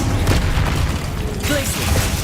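An Incendio fire spell is cast in a Harry Potter video game, a dense booming whoosh of flame layered with combat effects, loud and close, with an excited voice over it.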